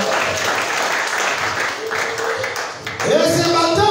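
A church congregation in Nairobi, Kenya, applauds the Lord with dense sustained clapping, and near the end a voice rises over it.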